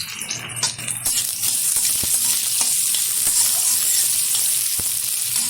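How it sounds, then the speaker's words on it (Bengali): Chopped onions fry lightly in a pan for misal pav, giving a steady close hiss of sizzling with a few sharp stirring clicks near the start. "এখন এর মধ্যে দিয়ে দেবো কুচিয়ে রাখা পেঁয়াজ"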